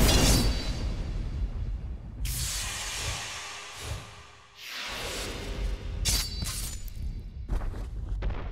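Thunder Breathing first form attack, Thunderclap and Flash, in a Demon Slayer Hinokami Chronicles video game, heard as loud crackling, shattering bursts and swishes in several rapid waves, no talk.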